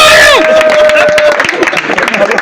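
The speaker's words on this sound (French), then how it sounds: "Applaudissez pour Sadia!" A small group claps and cheers for Sadia at a farewell party, close and loud, with whoops and excited voices over the crowd and steady applause.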